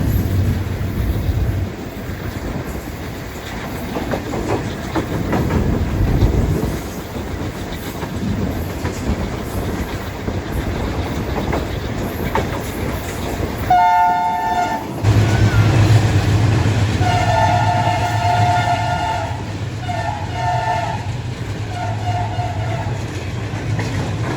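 A train rumbles and clatters along steadily between Karachi and Nawabshah, then a loud horn sounds in several bursts over the continuing roar.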